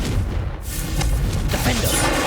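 A Confringo blast spell in Hogwarts Legacy, a short booming burst with crackling, rumbling impacts set against dense game ambience.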